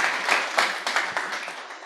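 An audience gives a short burst of loud applause for the TRD team at a poetry event, dense clapping that starts strong and tapers off within two seconds.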